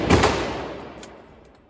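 A single sharp gunshot from a P14 rifle cracks out at the start, then rolls away in a fading echo over the next second and a half, with no voices.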